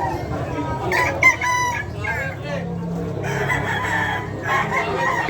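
A Red Kelso gamefowl rooster crows at a pet market in Malabon amid hens clucking and other fowl calling, close and loud over busy market murmur and voices.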